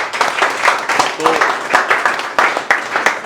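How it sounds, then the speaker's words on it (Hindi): Audience applause at a coaching institute event in honor of an English communication trainer, with bursts of clapping that rise and fall in uneven waves while a voice speaks over them. "एक बार उनके लिए तालियां हो जाए"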